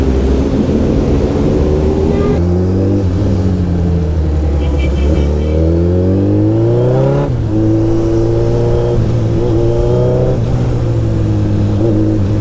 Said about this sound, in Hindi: इसलिए हर जगह जाम ही जाम है, जाम ही जाम है, जाम ही जाम है।